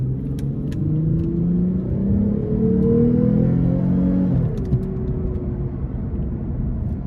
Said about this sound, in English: Let's give it some throttle here.